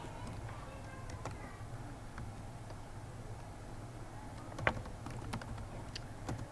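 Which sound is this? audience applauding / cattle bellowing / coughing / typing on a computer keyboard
typing on a computer keyboard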